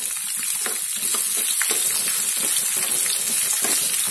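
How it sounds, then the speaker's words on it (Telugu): Chopped onions hit hot tempering in a pan for gongura chutney, giving a continuous, close, bright sizzle and crackle of frying with no voices over it. "ఈ పోపు వేగాక మనం ముందుగా తరిగిన ఇలా ఆనియన్స్ ఉన్నాయి కదా, ఈ ఆనియన్స్ని వేసేసుకోవాలి"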